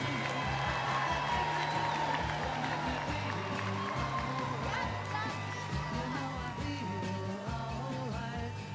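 A crowd at a float and banner parade event applauds and cheers for the banner winners, a sustained wash of clapping over steady background music and low crowd murmur.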